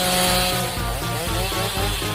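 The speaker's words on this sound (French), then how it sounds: "Mais où est l'outil adéquat? Ah oui, une tronçonneuse." A chainsaw runs steadily at close range, a loud buzzing engine whine with slight rises and dips in pitch as it works, no voices over it.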